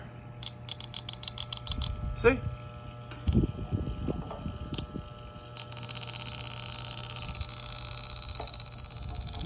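An Elitech electronic refrigerant leak detector beeps in quick repeated chirps, then rises into a steady high continuous tone while probing a leaking filter dryer inside a Goodman AC condenser; a brief spoken word and handling noises occur along the way.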